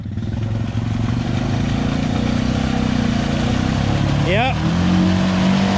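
A motorcycle engine revs as the throttle opens on a rough trail ride, a steady low drone that rises sharply in pitch near the end, with people talking close by.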